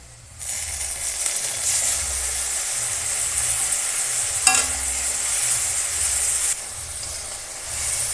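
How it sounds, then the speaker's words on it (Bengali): Ground paste of ginger, cumin, garlic, coriander and dried chilli hits hot oil with reddened onion and bay leaf for chicken, a loud steady sizzle with one sharp spattering burst midway and stirring throughout. "এবার বাটা মশলাটা দিয়ে দেব"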